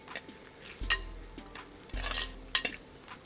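A spoon scraping and clinking against a pot while chilli and turmeric powder are stirred into village-style chatti rice, with two thudding strokes followed by sharp metallic chinks.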